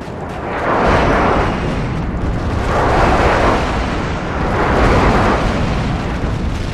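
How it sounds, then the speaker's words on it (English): Airstrike explosions in a Modern Warfare 2 team deathmatch on the Afghan map roar in three long, heavy rumbling waves, each swelling and fading over about two seconds, loud and close with deep booming low end. "Friendly airstrike inbound."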